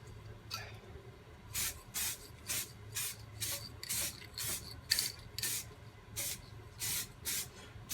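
Repeated short bursts of spray-paint hiss as light coats go onto a 1964 Mk1 Mini steering column, roughly one every half second, each brief and bright, with quiet pauses between and faint background hum.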